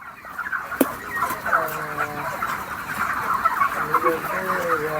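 Chickens cluck and call throughout a crowded poultry farm housing thousands of birds, a steady layered chorus of overlapping clucks and drawn-out calls at moderate distance.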